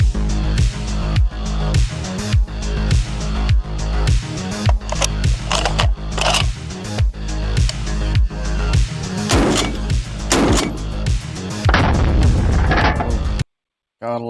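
A semi-automatic .50 caliber rifle, the Serbo BFG 50A, fires in a rapid series of heavy, booming shots, loud and close, each followed by a ringing echo before the shots stop abruptly.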